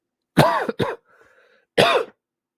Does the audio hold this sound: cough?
yes